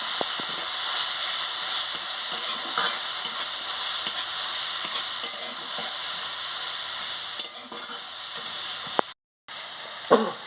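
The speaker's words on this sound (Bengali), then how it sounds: "হলুদের গুঁড়ো লঙ্কার গুঁড়ো আর কাঁচা লঙ্কা দিয়ে দিচ্ছি একসঙ্গে দিয়ে দিচ্ছি দিয়ে ভালো করে মশলাটাকে কষিয়ে নিচ্ছি" Turmeric, chili powder and green chilies fry in a pan while being stirred, a continuous close sizzle and hiss with occasional scraping, briefly cutting out near the end.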